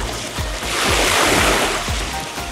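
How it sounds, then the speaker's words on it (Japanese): Morning ocean waves on a Hawaii beach roll in and swell to a broad crashing wash midway, with low thumps of wind buffeting the microphone throughout. "いやー、朝のビーチはいいね。"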